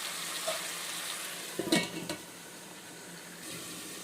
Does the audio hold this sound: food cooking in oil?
yes